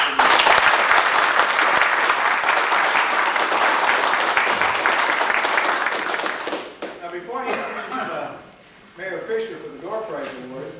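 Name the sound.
round of applause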